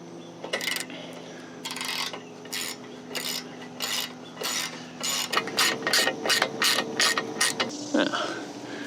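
A ratchet wrench tightens running board step bar bracket bolts on a Ford Super Duty Tremor truck, with a steady mechanical hum early on, then a quick series of close, clicking ratchet strokes in short bursts.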